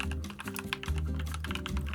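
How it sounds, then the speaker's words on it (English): Steady, rapid keystrokes on a Dustsilver K84 mechanical keyboard with KDA profile keycaps and Matcha Latte v2 switches, close and crisp, each press clicking in a quick uneven rhythm with no talking. "I'm typing on this KDA profile for the first time, and to me, it feels pretty good to type on."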